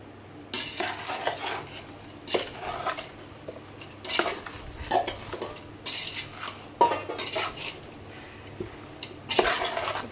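Chicken biryani masala being mixed with mint and coriander in a metal pot, giving repeated scraping and clinking of a utensil against the pot in irregular bursts, close and moderately loud, with no talking.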